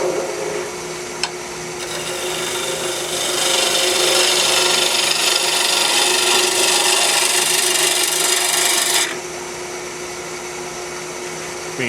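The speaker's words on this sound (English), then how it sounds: "This Ambrosia Maple cuts like butter." Roughing gouge cutting Ambrosia Maple on a lathe, a close, loud hissing shave that swells and holds steady for several seconds before dropping back to a quieter spinning hum.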